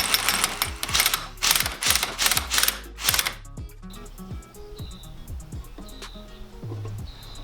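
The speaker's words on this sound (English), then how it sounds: "I have my impact wrench right there, and that's what drives the screw down to squeeze on the U-joint" Impact wrench driving a press screw down onto a U-joint held in a bench vise during a Toyota Tacoma front U-joint replacement, loud rattling hammer bursts for several seconds, then quieter mechanical clicking.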